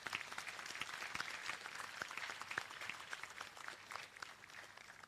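Steady applause from a graduation ceremony audience at the Seychelles Business Studies Academy in 2022, a dense patter of many hands clapping continuously at moderate loudness with no talk over it.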